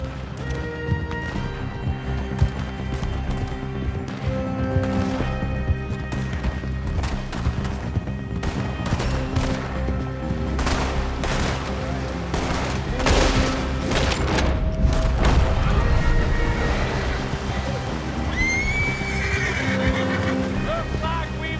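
Gunfire in a shootout from the video game Red Dead Redemption 2, scattered shots cracking over music, hoofbeats and movement, with a denser loud cluster of fire in the middle and voices calling out.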